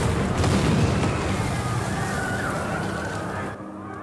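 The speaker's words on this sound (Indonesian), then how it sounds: "Ledakan terjadi, entah apa yang terjadi." A loud, close explosion from a Korean drama, a broad rumbling roar that fills the first seconds and slowly decays before cutting to near silence, with no speech over it.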